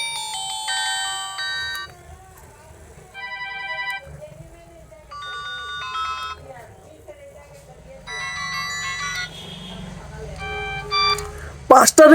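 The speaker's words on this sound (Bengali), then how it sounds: "চলুন দেখা যাক যে ফোনটির সেই রিংটোনের সাউন্ড কেমন ছিল" Ringtone melody from a GDL Bay 1 keypad mobile phone, a simple beeping synthesized tune playing in several short bursts of tones with brief pauses between them, close and clear, ending with a sharp click.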